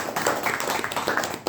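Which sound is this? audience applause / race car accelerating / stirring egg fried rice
audience applause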